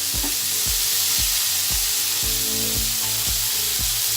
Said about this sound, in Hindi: इसको थोड़ा से भून लेंगे।